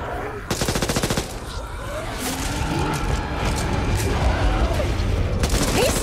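Rapid automatic gunfire in a shooter video game bursts out loud and close in a dense rattling stream, then gives way to a sustained roar of continued shooting and rumbling action.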